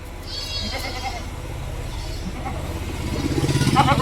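Goats bleat softly in a livestock pen, two dairy goats separated from their kids after a second kidding; a few faint calls come early, then a busier burst of bleating and animal noise builds toward the end.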